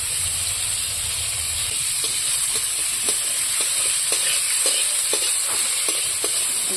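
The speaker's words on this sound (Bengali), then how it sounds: "এখন মাছের ঝোলের জন্য আমি উচ্চ কটা আগে ভেজে নেবো" Bitter gourd pieces frying in hot oil in a pan, a continuous close sizzle and hiss with occasional soft pops and stirring scrapes, steady and unbroken.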